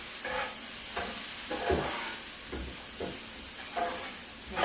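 Food being stirred in a hot frying pan: a continuous close sizzle and hiss broken by repeated scraping stir strokes at a roughly steady rhythm, with no talk.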